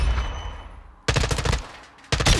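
Automatic M4 / TAQ-56 rifle fire in MW2 DMZ: two sharp, loud bursts of rapid shots, the first about a second long, the second starting near the end, with a faint earlier shot beforehand.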